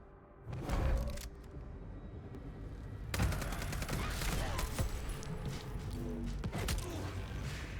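Rapid gunfire in the video game Vampire: The Masquerade - Bloodlines 2, a burst of shots followed by a dense, sustained stretch of fast automatic fire, loud and close, with rumbling impacts mixed in.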